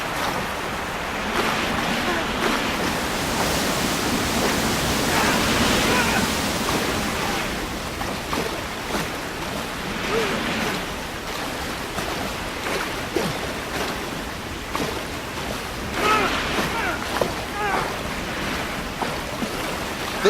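Churning whitewater rushes steadily through the Piccadilly Circus course of a London 2012 canoe slalom video game, a broad, continuous roar that surges and eases over about twenty seconds.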